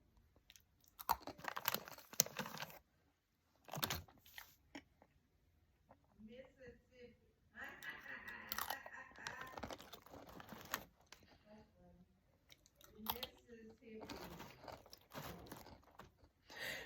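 Crisp, salty pretzels crunched and chewed close up, with bursts of loud brittle crunching separated by short quiet pauses and softer chewing in between.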